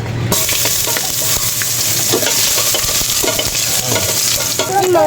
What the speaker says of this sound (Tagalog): Muna natin gagisa yung luya.